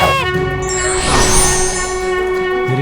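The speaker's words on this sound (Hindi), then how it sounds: "मेरे शंख की ध्वनि कैलाश से।" Conch shell blown in a devotional Ganesha TV drama, a sustained, loud, steady horn tone with rich harmonics that holds for nearly three seconds over a busy background score.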